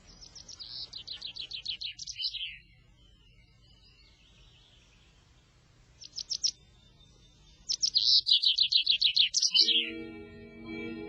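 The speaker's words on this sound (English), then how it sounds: "Birds sing very fast, very high, and in no definite pitch." A small bird sings rapid, high trilling phrases, pausing between bursts, close and clear against a quiet background.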